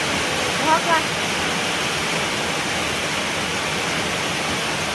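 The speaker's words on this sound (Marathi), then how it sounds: "किती भारी पाऊस आहे" Heavy rain pours in a dense, steady roar that stays constant throughout, loud and close, with a brief faint chirp near the start.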